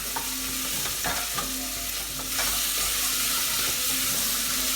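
Ginger and garlic frying for an Indian homemade goat curry, a continuous loud sizzle with repeated scraping stirs of a utensil in the pan.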